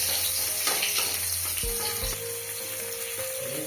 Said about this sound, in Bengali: এখানে রসুনের ফোড়ন দিয়ে দেওয়া হলো।